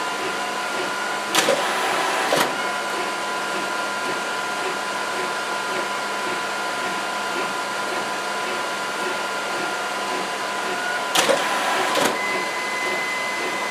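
A dye-sub photo printer runs with a steady mechanical whir, broken by two brief louder bursts of feed noise about ten seconds apart.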